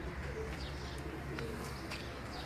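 Teddy pigeons coo steadily in a loft, soft repeated calls close by over a constant low rumble with faint chirps above.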